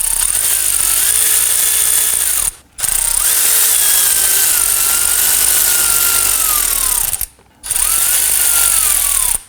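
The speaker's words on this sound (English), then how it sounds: "I'm going to go ahead and use my power tool here." A power tool, likely an impact driver, whirs and ratchets in three long bursts with short pauses between, loud and close, pitch shifting slightly as it runs in bolts on a 2018-2024 Toyota Camry front wheel hub assembly.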